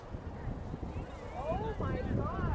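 Wind gusting across a women's rugby field on Treasure Island during a match, producing steady low buffeting rumble against the microphone with faint whistling tones over it.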